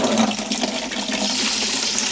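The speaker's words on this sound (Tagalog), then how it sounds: "Yung tubig nila dito." Water rushing steadily from a campsite shower tap near a beach, a dense, even hiss that stays loud and unbroken throughout with no voices.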